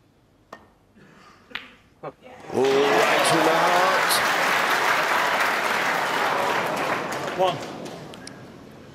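A snooker arena crowd rises into a standing ovation near the end of a World Championship final, sustained loud applause and cheering after a few scattered claps, with a commentator's voice over it.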